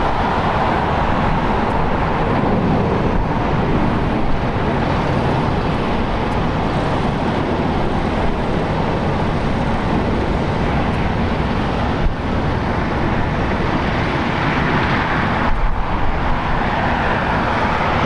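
A JetBlue airliner in Bruins livery rolls along the runway on a foggy day, giving a loud, continuous broadband roar that stays level for the whole stretch, with no voices.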